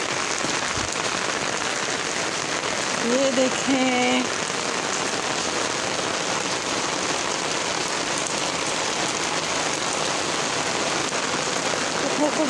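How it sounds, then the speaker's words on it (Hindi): Heavy downpour pounding steadily on garden plants, a dense, loud, unbroken hiss of rain throughout, with a brief voice speaking near the start. "इतनी ज़ोरदार बारिश है, बहुत ज़्यादा बारिश, सख्त बारिश हो रही है।"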